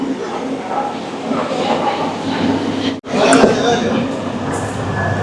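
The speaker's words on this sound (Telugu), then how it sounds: "ఆల్రెడీ వెళ్ళిన ట్రైను రిటర్న్ వస్తుంది" A packed hill train in Malaysia rolls back into the station with a steady rumble and rail clatter, briefly cut off before resuming, as people talk nearby.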